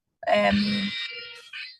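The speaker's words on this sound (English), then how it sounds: "sorry, that's my alarm ringing" A phone alarm rings during an online parliamentary committee meeting: a short, bright electronic tone with a brief second pulse, cutting in as a speaker begins to talk.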